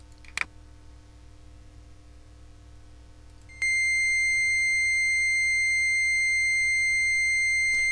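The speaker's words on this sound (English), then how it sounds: "As you can see by the red light coming on and also the audio tone that you can hear, this wire is good." Continuity test tone from a circuit simulator's test probe: after a brief click, a steady pure electronic beep starts partway through and holds unbroken to the end over a faint hum.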